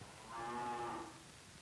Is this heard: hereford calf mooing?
yes